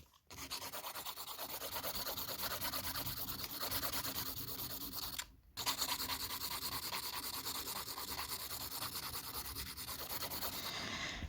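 Polygel nail side walls being filed and thinned down, a steady, continuous close rasping rub with one brief pause midway.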